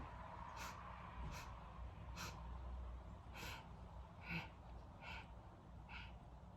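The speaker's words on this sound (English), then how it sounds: "first let's inhale 4 equal sniffs, and then we're going to exhale" Short sharp sniffing breaths through the nose in a breathing exercise come in a steady rhythm, about seven quick intakes spaced evenly, faint over a low background hum.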